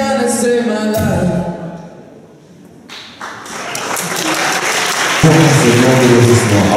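An audience applauds loudly and steadily at a student folk festival. A voice speaks through the middle of the clapping, and the applause swells again toward the end.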